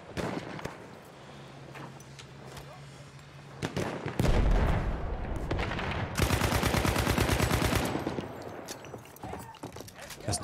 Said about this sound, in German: Hier kommen die Schüsse vorbei.